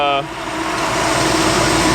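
A 1955 Chevy Nomad under restoration with a loose exhaust idles close by, a steady, loud, broadband rumble that begins just after a brief voice at the start.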